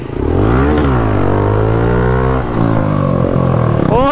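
KTM Duke 250 motorcycle engine revving close by, a loud, continuous throaty drone that rises and dips in pitch, with a brief drop partway through and a few faint crackles near the end.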